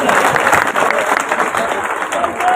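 A crowd applauds steadily and loudly throughout at a Bahujan Samaj Party political rally, with dense, continuous clapping that never lets up.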